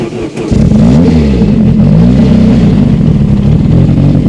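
A 600hp Ford Escort engine revs hard up close, a loud, steady roar with rising and falling pitch sweeps that holds for about four seconds.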